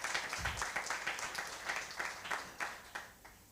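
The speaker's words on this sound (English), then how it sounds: "you can give a round of applause" An audience at a talk on strategic thinking gives a round of applause: quiet, moderately paced claps that are individually distinct, suggesting a small group, and that thin out toward the end.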